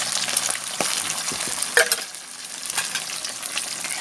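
Pieces of fermented fish fry in old oil in a pan, a steady close sizzle and crackle running throughout with a few louder spits and pops near the middle.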